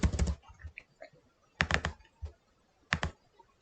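Typing on a computer keyboard: three short clusters of quick, crisp key clicks separated by pauses, close and fairly quiet, with no talking.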